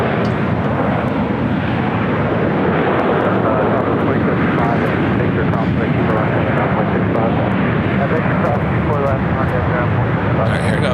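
A cargo plane's jet engines roar loudly and continuously at LAX airport, a dense, steady rumble that holds unbroken for the whole stretch.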